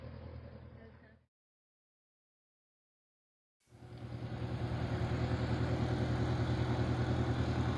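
Tractor engine as it backs out beside a PBY Catalina flying boat, a steady low rumbling drone that fades in after a brief stretch of silence and grows louder, following a short burst of engine noise at the start.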